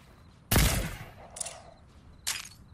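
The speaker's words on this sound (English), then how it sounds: "I might be shooting at the Wolverine" Gunfire in the Fortnite video game: one loud, close burst of shots followed by two fainter, shorter volleys.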